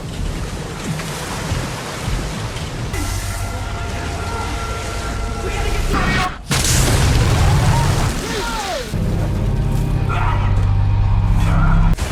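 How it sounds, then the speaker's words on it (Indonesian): An offshore oil drilling rig explodes in a chain of deep, rumbling booms that rolls on continuously, loud and dense, with a sharp cut in the middle before the roar surges back. "Ledakan terjadi secara beruntun dan menjalar ke seluruh bagian anjungan."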